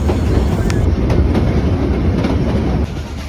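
Nilgiri Mountain Railway train rolling along its tracks, a loud, close, continuous rumble with rhythmic clickety-clack of wheels over rail joints and faint metallic squeals, no voices.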